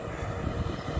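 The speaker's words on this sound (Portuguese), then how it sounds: "Olha lá, agora vem o trator" A tractor engine on a farm, heard as a steady low rumbling drone that stays at an even level throughout, with no voices over it.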